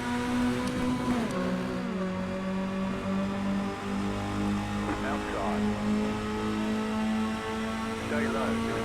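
Mini Stock race car engines in iRacing at Charlotte Motor Speedway drone loudly together, several steady buzzing tones that shift in pitch as cars pass and jostle in a pack.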